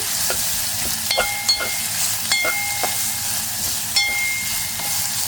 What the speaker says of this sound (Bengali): রসুন কুচি করে রাখা দিয়ে দিচ্ছি এখন নাড়াবো